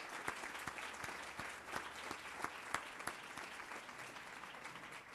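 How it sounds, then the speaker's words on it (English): An audience at a panel discussion applauds, a steady patter of clapping with a few sharper claps standing out, fairly quiet and distant. "You need to give him a round of applause."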